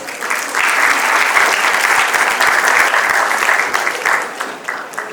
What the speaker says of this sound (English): Let us welcome her with a huge round of applause, please.